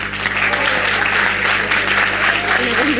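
An audience at a lecture applauds, a dense, steady wash of many hands clapping close by, loud and even from start to finish.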